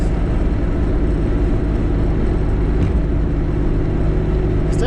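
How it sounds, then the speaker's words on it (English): Turbocharged VR V6 Commodore ute with a custom turbo and manifolds, the engine running loud and steady close by, a continuous droning exhaust and intake roar with a faint flutter late on, no voices. "Wastegate seems to be doing its job"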